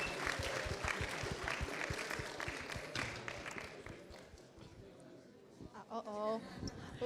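Dense applause from an audience at the closing prize-giving ceremony of an International Marketing Week fills the first few seconds, then fades as a speaker's voice takes over.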